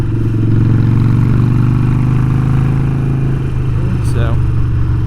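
Custom Harley-Davidson Sportster Forty-Eight motorcycle riding along, its steady low V-twin drone loud and continuous from the rider's position, with a voice talking over the engine.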